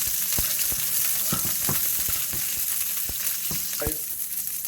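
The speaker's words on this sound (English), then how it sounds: "I'm just gonna make this fry for just like 2 minutes." Bell pepper sizzles steadily in a hot pan, a dense close frying hiss with a few sharp stirring scrapes and knocks scattered throughout, no voices.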